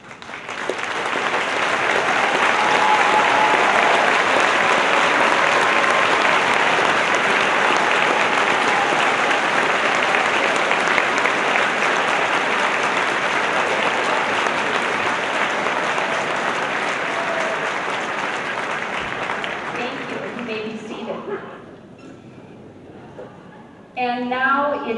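A large audience at a high school graduation ceremony applauds honor students, a long, loud, even wash of clapping lasting about twenty seconds before fading as a voice begins speaking.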